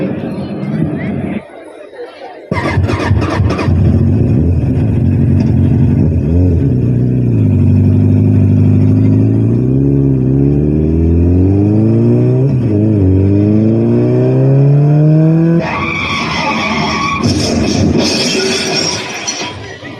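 A vehicle engine starts and pulls away, its revving pitch climbing steadily through several gear-like sweeps over continuous background chatter, then settling into a steady drone.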